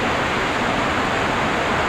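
Heavy rain and strong wind during a typhoon under signal no. 3, a dense, loud, unbroken roar of rushing water and air, close and steady without any voices.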